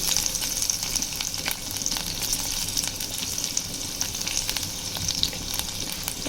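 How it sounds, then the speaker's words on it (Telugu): Chillies and fenugreek seeds frying in hot oil in a pan for a mutton keema methi curry: a continuous close, even sizzle with faint crackle throughout, no talk. "ఇందులో మనము మిర్చి వేసుకొని కొద్దిగా ఫ్రై అయ్యాక మనం తీసుకున్న మెంతెం కూడా ఇందులో వేసుకొని మంచిగా ఫ్రై చేసుకుందాము"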